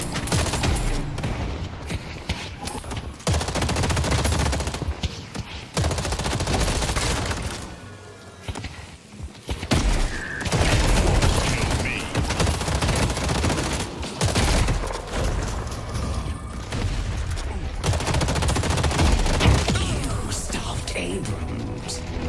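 Rapid bursts of video game gunfire, including a fusillade of shots while fighting Infernus and shooting an orange soul out of the air, run loud and near almost continuously, with brief lulls and voices talking over the shooting.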